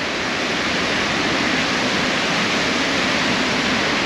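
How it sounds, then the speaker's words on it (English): Tunnel Falls in Oregon pours down in a steady, loud, unbroken roar of rushing water, close by and with no other sounds over it. "Just the force of the water is just ripping down."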